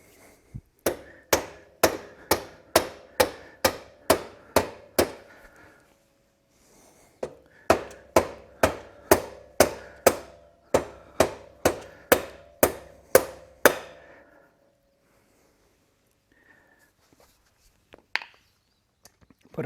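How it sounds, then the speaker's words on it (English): A rubber mallet knocks a part into place on the rear wheel of a Honda CX500C motorcycle. Two quick runs of about a dozen sharp, evenly spaced taps come close by, a brief pause between them, then a few faint clinks. "Take our rubber mallet, tap it through."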